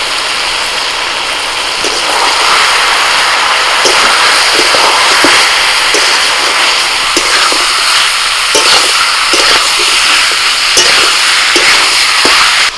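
Chicken with ground coriander, cumin and Kashmiri chili powder sizzling and frying in a pan, stirred with steady scraping clacks, loud and close, continuous throughout.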